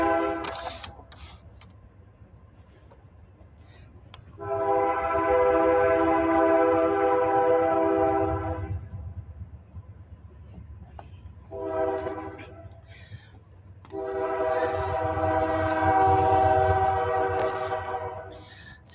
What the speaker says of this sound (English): we'll let the train do its thing